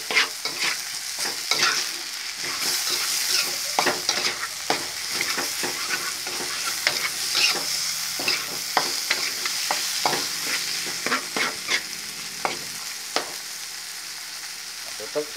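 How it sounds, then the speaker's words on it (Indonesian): Cassava leaves frying in a pan are stirred with repeated scraping and clattering strokes over a constant sizzle, close and moderately loud, the strokes coming in an uneven rhythm. "Sekarang kita aduk-aduk teman-teman."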